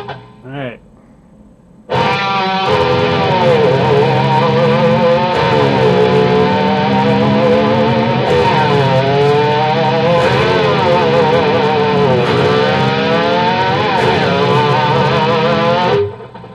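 An electric guitar with a whammy bar imitates an old army Jeep. A loud, distorted, sustained tone wobbles and dips in pitch continuously for about fourteen seconds, like an engine lurching over rough ground.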